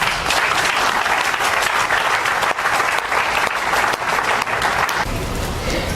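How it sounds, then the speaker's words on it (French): Steady, dense applause from an audience at a diocesan education office ceremony in Thiès honouring retirees, many hands clapping continuously and loudly throughout. "j'aurais souhaité que l'assistance ait l'amabilité d'applaudir en signe de respect"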